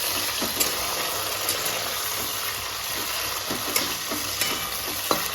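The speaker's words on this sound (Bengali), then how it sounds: "বেশি ভাজবো না, একদম হালকা করে ভেজে নেব।" Cashew nuts and raisins frying lightly in hot oil in a pan, a steady close sizzle with occasional stirring clicks and scrapes, no talking.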